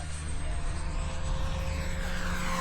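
A model airplane makes a low, fast pass over the runway of a flying field on a hot day. Its steady propeller and engine drone stays loud and continuous throughout, with no voices over it.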